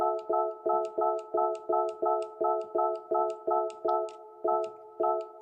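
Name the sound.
beeping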